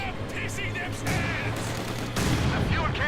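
Mortars fire repeatedly in the World War II strategy game Company of Heroes 2, a series of distant thumps and bursts during a 2v2 match, while a commentator talks over the battle.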